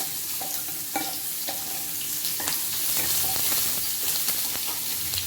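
Onions frying in a pan for a drumstick masala gravy, with a steady close sizzle throughout and scattered clicks and scrapes of stirring on top.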